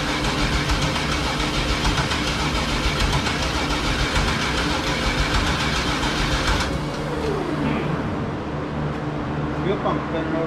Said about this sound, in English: Fuel pump spinning over faster than motor.